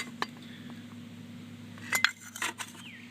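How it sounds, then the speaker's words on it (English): Spare Honda SL70 motorcycle parts clink and rattle in a metal coffee can, giving a few light, bright metallic taps and a short jangling burst close by over a steady low hum. "I have a coffee can full of spare parts"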